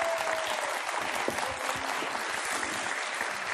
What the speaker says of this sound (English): Brahim, très applaudi par tout le monde.